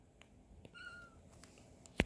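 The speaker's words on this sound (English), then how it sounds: "Hear that cat, man." A cat gives a thin, faint meow in the background of a quiet indoor space, followed by a sharp close knock at the end.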